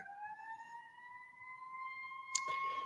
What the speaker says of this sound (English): Forgive me if you hear sirens.